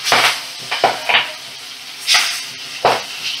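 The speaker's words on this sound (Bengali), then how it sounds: "মিডিয়াম ফ্লেমে রেখে মাছগুলো ভাজা করে নিচ্ছি।" Magur catfish frying in hot oil in a pan over a medium flame, a steady close sizzle broken by several louder crackling bursts and spatters, with no talking.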